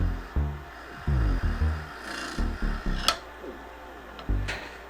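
A skew chisel used as a negative-rake scraper cuts a tenon on a claret ash live-edge bowl spinning on a wood lathe, producing repeated rhythmic rubbing and scraping bursts over a steady motor hum, close by.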